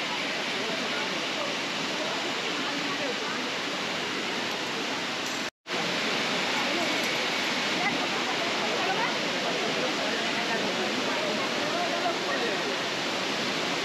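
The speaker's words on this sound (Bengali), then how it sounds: "দেখুন ঝর্ণাটা এবার একদম সামনে থেকে আপনাদের দেখাচ্ছি" A loud waterfall near Gangtok, its dense, continuous roar of crashing water close by and unbroken apart from one brief cut.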